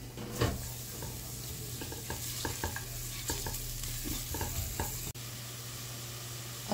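Garlic and onion sizzle in a pan as they are stirred, a steady close crackle broken by scraping stir strokes, with a brief clatter near the end and no speech.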